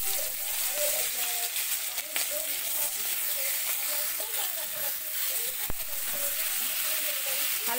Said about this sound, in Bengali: হালকা করে ভেজে আমি তুলে নেব